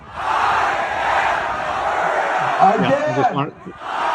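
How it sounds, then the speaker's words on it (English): Large crowd at an Alberta independence rally cheering and roaring loudly and continuously, with shouting voices rising near the end before cutting off abruptly. "Look at that crowd."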